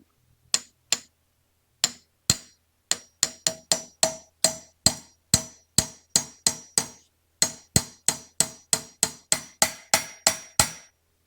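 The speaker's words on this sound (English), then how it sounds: "We'll drive the star nut in" Sharp metallic hammer blows drive a star nut into a bicycle fork steerer, a long series of loud, ringing strikes that start spaced out and settle into a fast, steady rhythm, heard alone.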